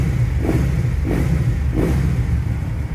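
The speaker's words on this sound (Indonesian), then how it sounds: "Kita coba geber lagi cuy," A Benda Napoleon Bob 250 motorcycle engine idles with a deep, steady rumble, punctuated by three evenly spaced throttle blips that rise and fall close by.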